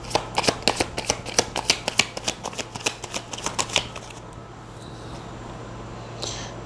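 Tarot cards are shuffled in a quick run of crisp riffling snaps for about four seconds, close and fairly quiet, then stop, leaving faint room noise.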